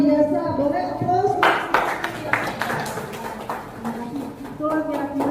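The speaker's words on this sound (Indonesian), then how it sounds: "Terima kasih luar biasa, boleh aplaus." Audience applause follows a teacher's presentation at a school event. A short voice is heard first, then a burst of loud, scattered clapping that tapers off, with talk returning near the end.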